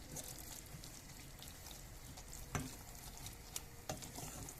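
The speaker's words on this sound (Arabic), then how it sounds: "وتو نحركوهم كل مع بعضهم كمان هكا حتى يذبل المعدنوس" Chopped parsley stirred with a fried mixture in a pan for a Tunisian tajine, steady crackling sizzle with a few sharp scraping clicks of the utensil against the pan, close and moderately quiet, no voices.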